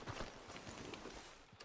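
A horse gallops in Red Dead Redemption 2, its hooves beating out a quick, even rhythm. The sound is faint and steady over a short stretch, with no voices.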